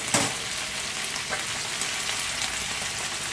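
Taro stolons and potato fry together in a pan as a continuous close sizzle, opening with a brief sharp burst when they are added, then settling into an even hiss.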